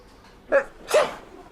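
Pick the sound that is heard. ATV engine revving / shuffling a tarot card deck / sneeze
sneeze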